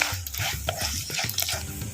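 Cashews, dal and curry leaves fry in hot oil in a home kitchen for gooseberry rice, with a close, steady crackling sizzle broken by scraping stirs.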